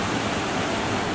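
A waterfall in Bali rushes in a dense, steady roar of falling water, loud and continuous throughout with no voices.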